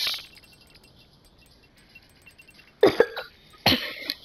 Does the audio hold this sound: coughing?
yes